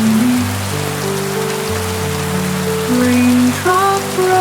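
Rain falls steadily during a car drive, a dense soft patter running continuously beneath gentle music.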